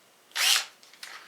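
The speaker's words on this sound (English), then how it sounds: "just to make sure that you have the right size of drill, we're actually giving you a drill bit" A power drill briefly whirring into the frame of a Tamiya 1/14 scale semi truck model, one short loud high-pitched burst followed by fainter spins, close up with no talk.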